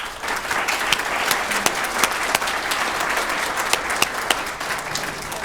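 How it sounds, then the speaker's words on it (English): An audience at a students' gala applauds steadily for several seconds, a dense, even clatter of many hands with a few sharper claps standing out. "could we please give Sarah Wood a round of applause?"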